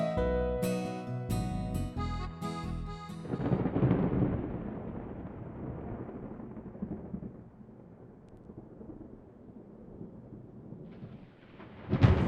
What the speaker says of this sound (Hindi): बूंदाबांदी तो शुरू हो गई है।